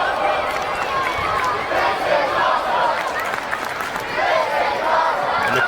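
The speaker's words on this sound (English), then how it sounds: "the crowd here in Doha chanting, "This is awesome."" A wrestling crowd at an arena in Doha cheers and chants in unison, a dense, rhythmic roar of many voices rising and falling throughout, with scattered clapping mixed in.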